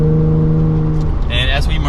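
A Toyota Tacoma fitted with an AWE true dual exhaust accelerates gently up an on-ramp, its steady low exhaust drone loud and close under a voice.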